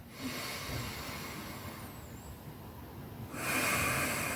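A slow exhale during a calm Wu Chi relaxation and stretching exercise, a soft airy breath-out rushing steadily, quiet and close, with no talking.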